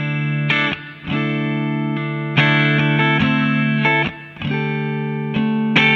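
An electric guitar plays sustained, ringing chords through a custom-built amp, with reverb and a low mix of analog delay from a J-Rocket Audio Clockwork pedal; loud, with short gaps between strummed phrases.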